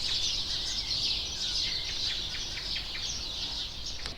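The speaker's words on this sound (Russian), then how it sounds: "Здесь так поют птички, просто не передать словами" Birds chirp and sing continuously at a moderate distance on hotel grounds in Gagra, Abkhazia, over a soft background hum, with a sharper call near the end.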